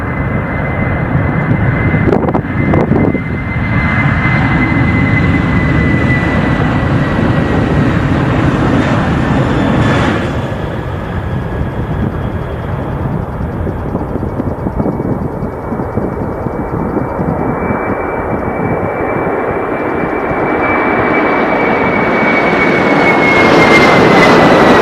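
The NASA Artemis I SLS rocket lifts off with a loud, continuous roar and deep rumble that stays dense and broad for the whole stretch, with a steady tone riding above the noise and no voices.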